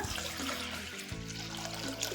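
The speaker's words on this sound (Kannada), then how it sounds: "ಇವಾಗ ಮುಳುಗೋಷ್ಟು ನೀರು ಹಾಕೊಂಬಿಡೋಣ" Water poured into a pressure cooker over washed lentils with chopped onion for sambar, a steady faint splashing pour running throughout with no voices.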